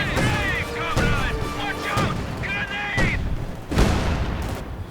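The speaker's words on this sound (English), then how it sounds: "And now the field gun's opening up" Field gun firing in Company of Heroes 2, a handful of sharp booming shots spaced a second or so apart amid battle noise, with a commentator talking over it throughout.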